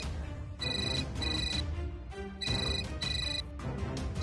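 An electronic telephone ringtone trills in two repeated bursts, each a pair of rapid warbling rings, moderately loud over a low background.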